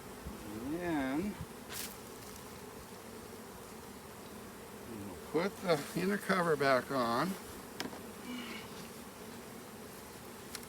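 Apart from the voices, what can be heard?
honey bees buzzing around an open hive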